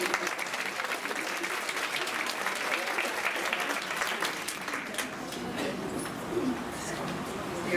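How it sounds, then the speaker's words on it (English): Audience applause at an alumnae luncheon, steady dense clapping that fills the room and continues for several seconds, with faint bird cooing mixed in toward the end. "Can join me in giving them all a round of applause."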